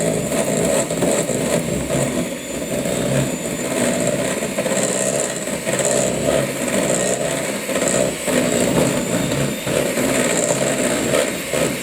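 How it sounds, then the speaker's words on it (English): An electric whisk beats fairy cake batter in a bowl with a continuous loud high whirring drone and a gritty scraping edge, running steadily for the whole stretch with no one speaking. "I'm going to give it one more whisk."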